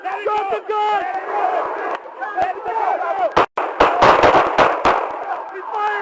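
Sharp gunshots crack out during a tense police confrontation, several close bursts clustered near the end amid loud shouting voices and crowd commotion.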